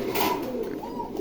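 Double-crested Tumbler pigeons coo in a steady, rolling murmur that carries on throughout, fairly close and moderately loud, with no voices over it.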